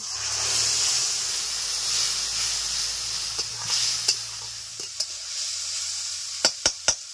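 Spice paste with crushed ginger hits fried onions in a pan for a rui fish curry, giving a steady loud hiss and sizzle with a low hum, then a few sharp scraping clicks from stirring near the end.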